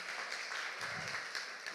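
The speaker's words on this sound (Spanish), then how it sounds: "Damos un fuerte aplauso a este muchacho" A church congregation applauds, giving a soft, continuous wash of clapping that sounds somewhat distant and holds at an even level.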